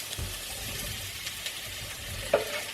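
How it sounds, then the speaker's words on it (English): Vegetables stir frying in extra virgin olive oil in a frying pan sizzle steadily and close by, with soft stirring scrapes and a small clack near the end. "First the veggies."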